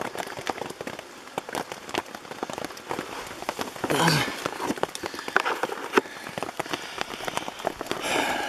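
Rain patters steadily on a tent, a dense spread of close taps and drips, with occasional louder splashes and faint voices.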